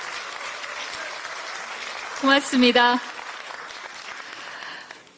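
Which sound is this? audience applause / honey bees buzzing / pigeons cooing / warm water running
audience applause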